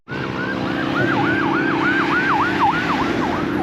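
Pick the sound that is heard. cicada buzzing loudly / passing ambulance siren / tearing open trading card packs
passing ambulance siren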